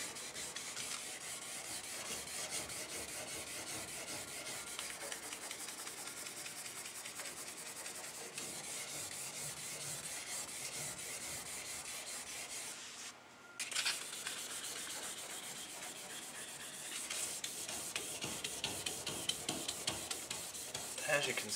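Steady wet sanding of a paint run with 800 grit sandpaper, a continuous rubbing scrape that keeps going for the whole stretch with a brief pause partway, close and fairly loud, with no voices over it.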